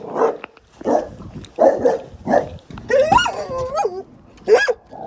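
A dog barks at a delivery driver from close by, a series of separate barks followed by higher whining yips and whimpers, loud and alone with no talk.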